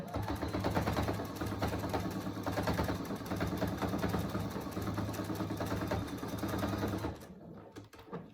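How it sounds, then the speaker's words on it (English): A sewing machine stitches rapidly through folded fabric, sewing back and forth in a steady mechanical chatter that runs for about seven seconds before stopping, alone with no talk. "fold this one over and sew it down a couple of times, back and forth"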